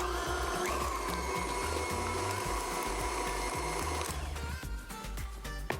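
A mixer whirs steadily as it beats cream cheese with sugar for a chocolate ricotta cheesecake, a continuous close motor drone with rhythmic bumps that changes tone toward the end.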